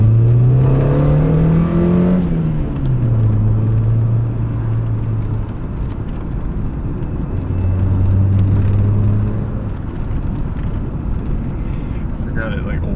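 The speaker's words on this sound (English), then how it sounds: "Here we go, Honda intake sounds." Honda Prelude pulls hard with a deep, rising intake drone that climbs in pitch, drops at a gear change, then climbs again, loud and close, with low road and wind noise underneath.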